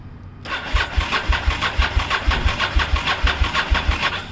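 A 1998 Honda VTR1000F Superhawk V-twin motorcycle with full Yoshimura exhaust fires up on choke and settles into a close, loud idle with an even, lumpy pulsing beat.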